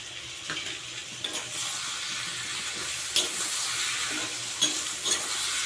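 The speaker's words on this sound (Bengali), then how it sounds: "ভালো করে এটা নেড়ে ছেড়ে নেব" Tomato pieces, salt and turmeric being stirred in a frying pan, with a steady sizzle and occasional scraping and clinking of the utensil against the pan, close by and with no voices.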